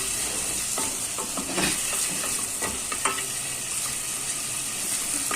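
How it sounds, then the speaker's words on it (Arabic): Onions fry in a pan while being stirred, with a steady loud sizzle and scattered scraping stir sounds running throughout at close range. "هنقلب كده البصله كده اهو"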